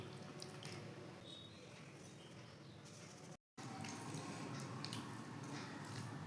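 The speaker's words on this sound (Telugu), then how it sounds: "ఉప్పు తక్కువైంది, అది పోసి కలిపేస్తున్నాను" Salt being stirred into mango pickle (avakaya), a soft, wet squishing and mixing that runs steadily and close, broken by a short moment of silence near the middle.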